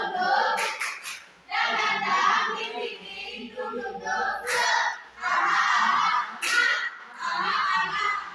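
Group of participants doing a rhythmic spirit clap in bursts of quick synchronized claps, with pauses between patterns and some shouting, fairly close and loud.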